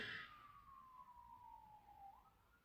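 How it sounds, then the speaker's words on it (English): A distant emergency siren wails faintly outdoors, one long tone gliding slowly downward, quiet and alone with no talk. "I'm hearing sirens. I hope everything's okay."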